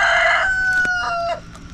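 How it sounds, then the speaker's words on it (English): A rooster crows loud and near in one drawn-out call, with chickens clucking around it in a backyard garden at dinnertime. "The chickens are really getting anxious about dinner."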